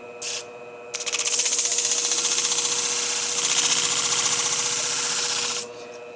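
A swarf eraser runs against the blade of a Tondeo German hair shear during sharpening, making a steady, close abrasive buzzing rub for about five seconds after a brief initial touch, with no voices.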